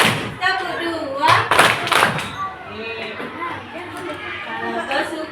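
A classroom of children claps along in patterned beats during a lesson, with thumping claps under a teacher's voice and crowd chatter, moderately loud and close.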